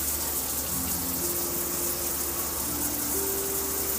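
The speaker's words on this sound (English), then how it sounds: "I'm taking a shower while I'm doing this recording" Steady shower spray pouring continuously at close range, a dense unbroken hiss of falling water with no voices.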